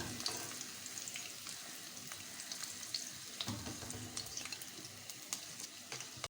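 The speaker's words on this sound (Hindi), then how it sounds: "फ्राई हम इसलिए करते हैं ताकि प्याज का जो कच्चापन है वो दूर हो जाए" A steady, close sizzle of onions frying in oil until soft, with occasional stirring clicks and scrapes, continuous and without speech.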